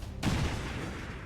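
A grenade blast in the XCOM video game, a single sudden low boom that hits hard and then rolls on as a rumbling decay.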